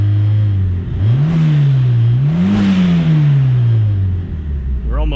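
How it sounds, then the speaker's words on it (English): A 2.0L turbocharged Pontiac Fiero engine, newly fitted with a replacement oil pump, revs up twice from idle, its pitch rising and falling close and loud before settling. "If I rev it up"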